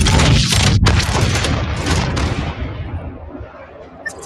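A gravity cannon fires in Apex Legends, a single loud, heavy boom that opens sharply and then rolls off into a fading rumble and rush over a few seconds.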